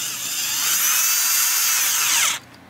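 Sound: drill driving new screws into Gibson SG guitar

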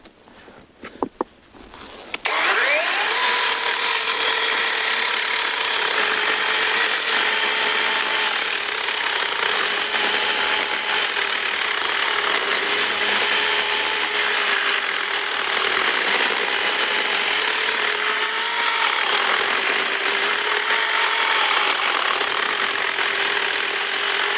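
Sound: ABS L-212 cordless chainsaw running

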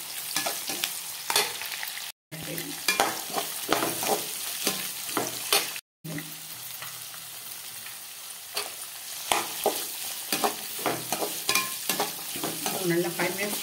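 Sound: beans added to frying kurma in pan

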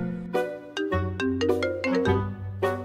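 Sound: phone ringtone for incoming call

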